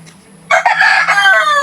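A rooster crows once, loud and close, a long drawn-out call that trails off at the end.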